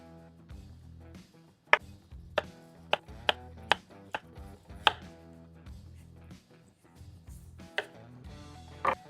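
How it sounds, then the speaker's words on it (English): A knife scoring the fat cap of a raw picanha, a series of sharp, crisp cuts and taps in an irregular rhythm, close and fairly quiet, with no talking. "I am going to score this because I want that seasoning to really"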